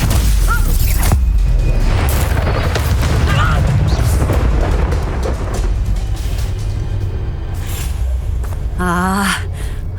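Confringo blast spells exploding in Hogwarts Legacy, a run of loud booms and crashing bursts over dense game-combat noise, with gasps and effort sounds from characters and a shrill magical whoosh near the end.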